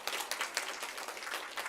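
A church congregation claps together during a Sunday worship service, giving a moderately loud, steady burst of many hands applauding in a room, with no voices over it.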